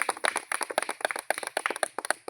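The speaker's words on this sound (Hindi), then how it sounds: "पावरफुल जिगर के लिए जबरदस्त ताली चाहता हूं" Audience applause at an RCM India gathering: a brisk run of sharp, fairly close claps in uneven bursts, with no talking.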